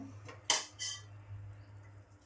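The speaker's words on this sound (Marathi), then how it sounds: "अंडी फोडून घेतलीत ना, ते आपण एक एक करून अशी टाकूया." Cracked eggs go one at a time into a simmering spicy egg masala gravy, heard as two quick, close metallic clinks of a bowl or utensil against the pot, then a quiet low hum.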